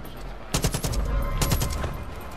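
Video game gunfire in Far Cry 5, aimed at a heavy gunner on an arcade map: two clusters of rapid automatic shots, the first around the midpoint and a second soon after, loud and close over a low background rumble.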